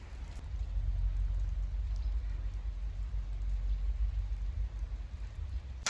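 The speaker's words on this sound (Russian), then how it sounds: "Дождь, не помеха" Steady outdoor rain falls throughout, a dense constant hiss and patter with deep rumbling underneath and no voices.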